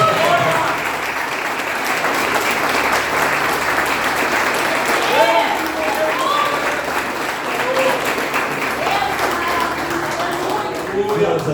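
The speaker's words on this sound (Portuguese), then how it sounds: "dá uma salva de palmas ao Senhor" A church congregation at a family service claps in a loud, sustained round of applause that fills the room steadily, with a voice speaking faintly underneath.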